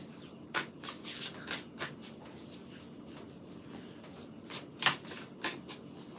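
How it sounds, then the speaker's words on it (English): A deck of tarot or oracle cards is riffled and shuffled by hand several times, with crisp bursts of fluttering card noise close to the mic in a quiet room. "Have to give my deck a really good shuffle"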